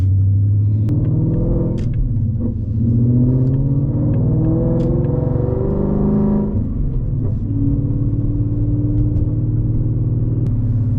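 A supercharged 2025 Ford Mustang GT with a six-speed manual rolls through a parking lot on a rainy morning, its engine giving a steady, loud, close low rumble and drone with slight surges over speed bumps.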